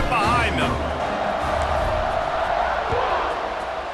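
Stadium crowd roaring before kickoff in EA Sports College Football 26, a loud, steady wash of cheering held throughout while a commentator talks over it.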